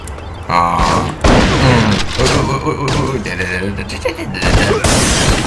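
Gunfire in the Bad Boys 2 video game comes as loud, dense bursts of shots and booms over several seconds, mixed with game effects and someone talking over the action.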